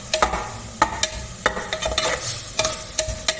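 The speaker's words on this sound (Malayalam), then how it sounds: "എന്നിട്ട് ഇതിനകത്തേക്ക് മട്ടൺ ഇടാം" Mutton added to a hot sizzling pan for a pressure-cooker mutton curry and stirred, a close frying hiss broken by repeated sharp scraping strokes at an uneven rhythm.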